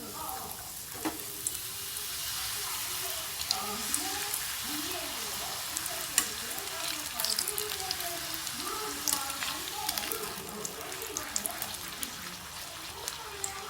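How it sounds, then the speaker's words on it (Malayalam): Steady crackling sizzle of carrot puris deep-frying in hot oil, with bubbling pops throughout and faint voices in the background. "നന്നായി എണ്ണ ചൂടാകുമ്പോൾ നമുക്ക് അതിലിട്ട് ഇട്ട് കൊടുക്കുകയാണ്"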